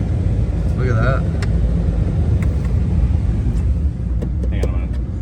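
A 2005 Chevrolet Trailblazer with a 5.3 LS V8, bogged in sand, roars steadily with a dense low engine drone, while people talk and shout over it and brief clicks and knocks cut through.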